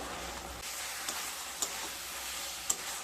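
Bean paste for sheem paturi sizzles and is stirred in a hot pan over a high flame, giving a steady, fairly quiet frying hiss with a few sharp scraping clicks.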